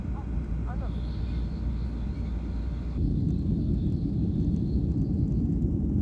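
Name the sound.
Jeju Air airplane taking off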